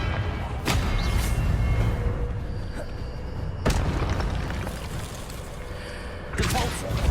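Three loud, booming bursts from the Confringo blasting curse in the Hogwarts Legacy video game, spaced a few seconds apart over a steady rumbling game background.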